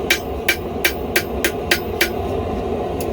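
Hot steel for a kitchen knife blade is hammered on an anvil in seven evenly spaced ringing blows, loud and close, over a low steady hum before the strikes stop.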